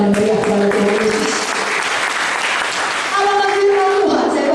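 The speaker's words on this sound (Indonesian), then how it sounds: "Kalau mau tepuk tangan yang meriah kepada Tuhan Yesus." A church congregation claps loudly and continuously for several seconds, with tonal sounds rising over the applause.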